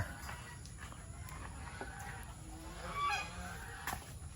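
Geese honk at feeding time in an evening farmyard alongside ducks and turkeys, a few faint scattered calls over a steady outdoor background with light movement noise.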